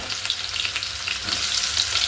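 Mustard seeds crackle and sizzle steadily in hot tempering oil, a dense bright hiss with small pops that grows slightly louder toward the end, with no voices over it.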